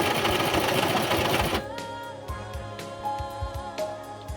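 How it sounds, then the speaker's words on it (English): A sewing machine stitches baby pants with straps, running in a fast, dense whir for about a second and a half before stopping, then faint clicks and handling noises follow, close up. "I will sew it like this to the end."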